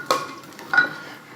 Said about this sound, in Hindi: ये मसाले पहले तेल में डालने से बहुत अच्छा तेल में खुशबू आती है